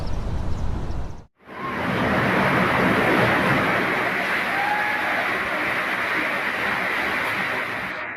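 Roaring storm wind in Brazil rushes in a continuous, heavy wash after a brief cut, loud and close, with no clear voices, as wind and rain tear the roof off a gas station.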